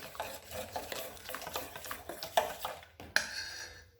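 A spoon scrapes and knocks around a pan while spices and salt are stirred for aubergine, giving irregular close clinks and rubbing strokes with a soft sizzle beneath and a sharper clack near the end.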